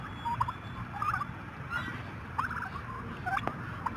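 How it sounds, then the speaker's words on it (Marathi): Fighter cross chickens and roosters give short clucking and gobbling calls, several brief bursts at moderate distance over a steady background hum. "हा फायटर क्रॉसचा कोंबडा आहे."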